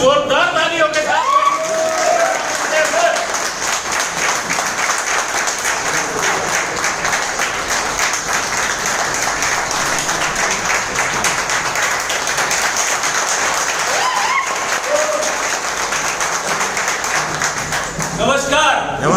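An audience at a business meeting in a hotel hall in Maninagar claps loudly in a dense, sustained burst of applause lasting throughout, with a voice briefly heard over it near the start and again later.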